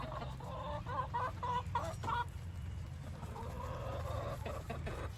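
A chicken being nursed clucks repeatedly at close range, in short bursts that come and go over steady low background noise, with no talk heard.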